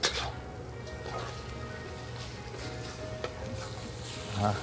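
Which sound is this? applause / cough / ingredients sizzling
ingredients sizzling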